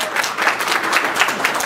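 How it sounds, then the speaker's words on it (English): An audience at a Toastmasters gathering applauds steadily and fairly loudly, a dense wash of many hands clapping at once with no voices standing out. "Let's give them a round of applause."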